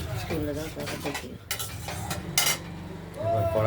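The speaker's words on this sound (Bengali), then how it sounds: "এবার কড়াইতে দিয়ে দিলাম, একটু নাড়াচাড়া করব," A spice paste with turmeric is stirred in a kadai, giving scraping and clattering strokes with a light sizzle while people talk over it.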